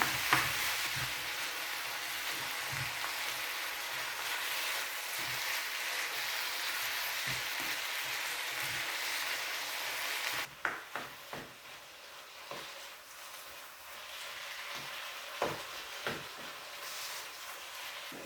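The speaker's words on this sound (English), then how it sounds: "We will wait for the mince to brown, but not cooked" Mince browns in a frying pan with a continuous crackling sizzle. Irregular scraping and tapping from stirring grows more distinct after the hiss drops partway through, and nobody speaks.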